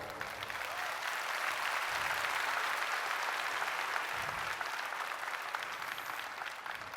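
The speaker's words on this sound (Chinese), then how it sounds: "我们再一次给May一个掌声哦" An audience applauds May Yang at the close of her talk at a Malaysian event, a dense, steady wash of many hands clapping that holds strong for about seven seconds with no voices over it.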